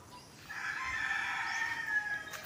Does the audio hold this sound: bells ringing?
no